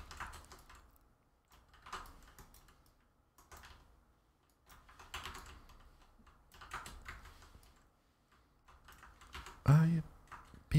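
Soft, quiet computer keyboard typing during Destiny 2 gameplay, scattered bursts of clicky keystrokes with pauses between, close by, with a louder knock near the end.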